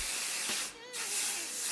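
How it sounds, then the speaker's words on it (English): Tresemme Illuminating Shine Spray hisses onto hair in a steady, close aerosol spray that runs almost the whole moment, broken by a short pause and a faint mouth sound, with no talking. "today I'm using this Tresemme Illuminating Shine Spray"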